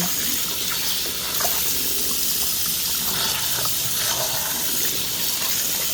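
Warm tap water runs steadily into a kitchen sink for cleaning with baking soda, a continuous broadband splashing hiss that stays even and close throughout.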